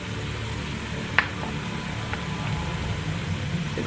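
Garlic paste sizzling in sesame oil in a pan, a steady close hiss with a low rumble beneath and one sharp clink of a utensil partway through.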